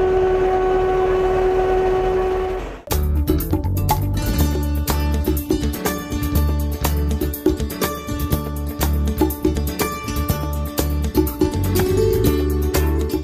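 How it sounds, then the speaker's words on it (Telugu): Single-coach railway bus running on a single track between Kakinada and Kotipalli; a sustained horn tone opens, then cuts to loud, close rattling wheel-and-rail clatter with rhythmic clanks that continue steadily. "single bogie single track train"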